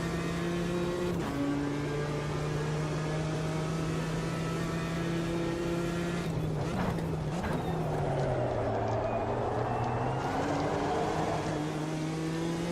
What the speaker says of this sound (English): Porsche sounds pretty good though.